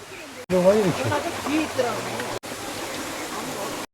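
A mountain stream on a Hwangmaesan trail in Hapcheon, South Korea, rushes steadily over rocks in a constant watery hiss, with a voice speaking briefly over the first half.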